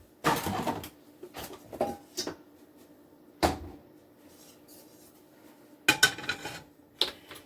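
Cookware being pulled out in a home kitchen, a few loud metallic clanks and knocks of a pan and cupboard, separated by quiet pauses, close by.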